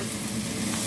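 Anchovies and bitter gourd hit hot oil in a frying pan, raising a dense, even sizzle that holds steady through the brief moment, close and fairly quiet.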